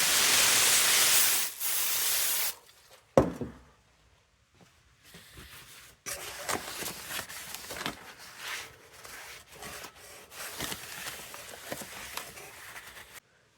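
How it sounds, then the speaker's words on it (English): Brake cleaner sprayed onto a brake rotor during a front brake pad and rotor replacement on a 1997–2001 Lexus ES 300: a loud, steady aerosol hiss for about two seconds, then a pause, followed by shorter intermittent spray bursts and clatter. "you're going to have to use some brake cleaner"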